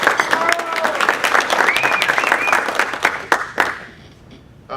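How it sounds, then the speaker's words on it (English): An audience at a Rotary Club meeting applauds a guest speaker, a full burst of clapping with some voices mixed in, dying away abruptly toward the end. "Give him a round of applause, Charles Cagle."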